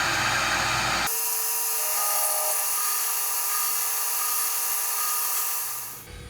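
An Atlas 618 lathe cutting flutes on a shop-made gear-cutting hob starts abruptly into a steady, high-pitched whining tone with a harsh cutting edge, holding for about five seconds before winding down.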